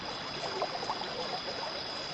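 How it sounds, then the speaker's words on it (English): Rushing river water carrying a boat midstream, a steady dense wash of flowing water with no breaks, moderately loud and close. "The rushing water took the boat into the middle of the river."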